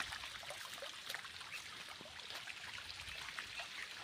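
Well water trickles and flows steadily through irrigation channels in a sugarcane field under the midday heat, a soft continuous burbling with no talk.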